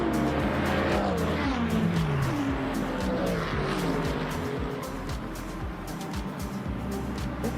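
V8 race car in the sim racing game Le Mans Ultimate during a Bahrain 8-hour endurance race: a continuous loud engine drone with shifting pitch and occasional tire squeal.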